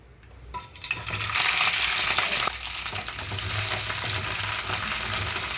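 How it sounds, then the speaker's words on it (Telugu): Green chillies fry in hot oil, a loud close sizzle that swells in the first second and holds steady, with a sharp clink partway through and a slightly softer crackle afterward. "ఇక్కడ పచ్చిమిరపకాయలు కొంచెంగా వేగిపోవాలి"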